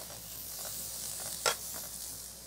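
Sliced onion hits a hot pan for japchae with a steady, close sizzling hiss that runs the whole time, with one brief louder crackle about midway.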